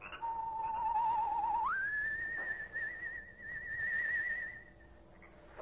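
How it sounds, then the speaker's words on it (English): A soft human whistle in the still night air at the edge of a cypress grove, set in a vintage horror radio drama: one sustained tone that steps up in pitch and holds with a slight warble, alone and fairly close. "a soft, whistled signal rides the still night air"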